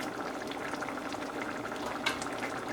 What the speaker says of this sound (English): And it's bubbling and it's cooking.